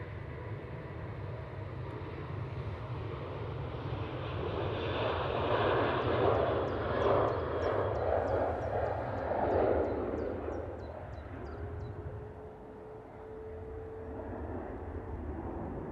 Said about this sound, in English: Right, Ryanair now departing.